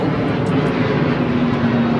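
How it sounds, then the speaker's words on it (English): Airplane passing overhead outdoors, a steady broadband engine drone holding at even loudness throughout with no talk. "is wait for the plane, number one"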